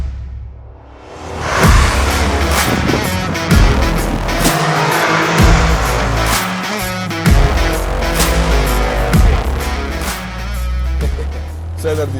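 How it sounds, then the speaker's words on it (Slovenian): A Toyota sports car driving fast on a test course, engine roaring loudly and steadily from close inside the cabin with repeated surges and tire noise, while a person talks over it. "Nisem se še peljal v dirkalniku, oziroma v športnem avtu, ki bi takole hitro peljal"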